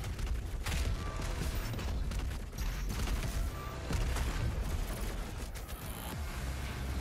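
Dense gunfire in Doom Eternal, a steady barrage of shots and mechanical clatter that runs through the whole stretch at a moderate, fairly even level with no talk.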